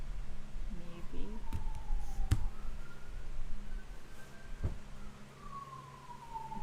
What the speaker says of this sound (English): Why do I hear police cars in the background?